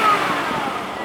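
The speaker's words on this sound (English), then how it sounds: "So it's got a bit of a rumble too, which I like. It's got that turbo sound." The turbocharged engine of a 2004 Volvo S60 idles and rumbles in a brief, steady low hum, close by, with no talk.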